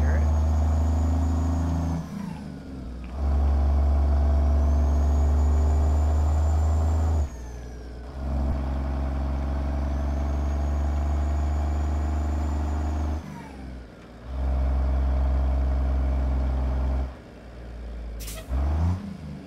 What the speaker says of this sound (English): So I've got the windows down. So you can hear this engine.